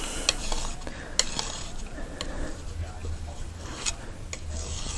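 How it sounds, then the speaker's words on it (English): Thick paint mixture containing glycerin is scraped off onto the side of a trash bag in repeated rasping, rubbing strokes, with occasional sharp clicks of the tool, close up and continuous. "I'm deciding while I'm scraping off this mess"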